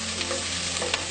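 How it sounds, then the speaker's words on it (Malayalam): Cinnamon, cloves and star anise fry in hot oil in a pan, giving a steady close sizzle with small crackles and a soft stirring scrape. "ഇതിലേക്ക് എടുത്തു വെച്ചിരിക്കുന്ന പട്ട, ഗ്രാമ്പു, തക്കോലം ഇതിട്ട് കൊടുക്കാം."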